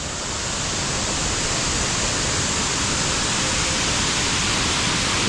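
A jungle waterfall deep in remote mountain forest roars in a steady, loud, unbroken rush of falling water, with no voices.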